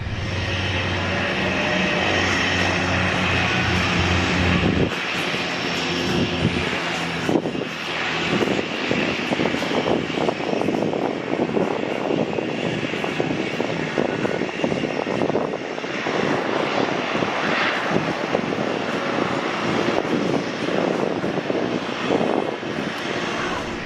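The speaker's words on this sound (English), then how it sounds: "there is a float plane landing" A float plane's propeller engine drones loudly and continuously nearby, its pitch shifting as the plane lands on water, with a rushing wash of noise throughout.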